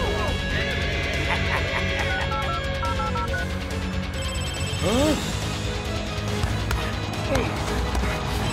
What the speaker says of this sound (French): Deux sonneries et demie, Big Bo.